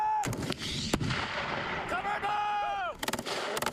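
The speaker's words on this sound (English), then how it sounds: "Rocket!" A military rocket launch or artillery firing: loud, close booming blasts and a rushing roar, ending in a rapid crackling burst, with voices partly audible beneath.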